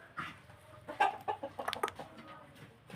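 Fighting cocks in a Thai backyard pen cluck and squawk in short, uneven bursts, fairly faint and mid-distance, with a louder cluster of calls in the middle and no talking.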